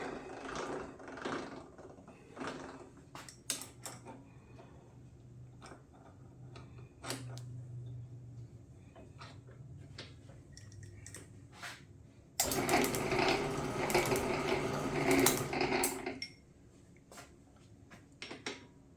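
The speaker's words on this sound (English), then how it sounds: "I'm forcing the ram to go all the way out, or I'm extending the ram all the way out" An Atlas metal shaper's ram is pushed out to full extension, giving irregular mechanical clicks and ticks over a low hum, then a louder, denser stretch of grinding metal motion before it settles.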